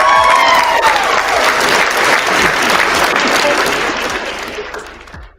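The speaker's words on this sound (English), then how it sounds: "I'm gonna test out your hand clapping sound." A hand-clapping crowd sound effect plays loud and full, a thick roar of applause with some crowd noise that holds steady and then tapers away toward the end.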